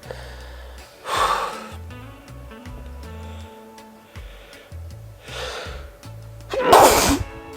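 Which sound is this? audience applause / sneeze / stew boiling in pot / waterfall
sneeze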